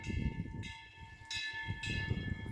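Temple wind chime bell at Haeinsa ringing in strong wind, sustained metallic tones with repeated strikes roughly every 0.6 seconds, over steady low wind rumble.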